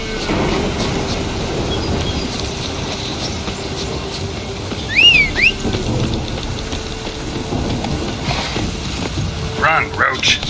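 A steady downpour in the video game The Witcher 3 hisses in the background while a voice speaks over it, with a brief whistling tone and scattered thumps.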